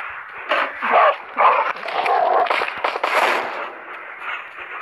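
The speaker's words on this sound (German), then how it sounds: "Und der Hund!" Dog barking in the zombie survival game Into the Dead, several loud, rough barks in quick bursts over a busy backdrop of game noise and gunfire-like pops.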